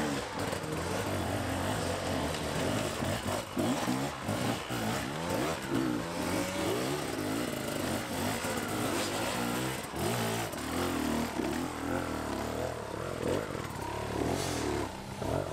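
A hard enduro motorcycle engine revs and snarls repeatedly during a race, loud and close, with rapid throttle bursts and rough, uneven surges throughout.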